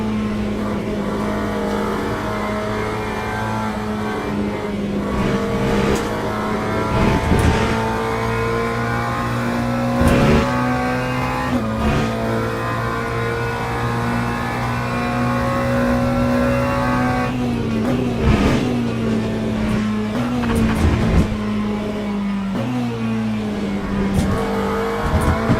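BMW GT3 race car engines in Le Mans Ultimate during a race at Le Mans, a loud continuous high engine drone with shifting revs and occasional gear changes, other cars whooshing by, no talk.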